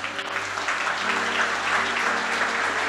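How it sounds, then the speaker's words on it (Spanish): A church congregation applauds at a sermon, a steady wash of many hands clapping at once that fills the space and holds at an even level throughout, with low sustained tones running beneath it. "¿Cuántos aplauden al Señor?"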